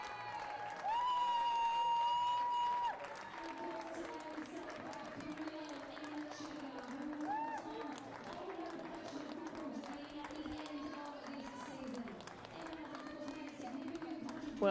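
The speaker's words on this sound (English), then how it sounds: "both teams making their way out to a healthy applause" A football crowd at a women's A-League match between Melbourne Victory and Melbourne City applauds as both teams and the referees walk onto the pitch. The clapping is soft and distant beneath steady commentary.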